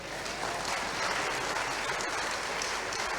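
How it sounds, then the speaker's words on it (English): A lecture-hall audience at a vice-chancellor's distinguished lecture breaks into steady, dense applause, many hands clapping at once, loud and even for the whole few seconds with no voices over it. "Will you want to clap for me?"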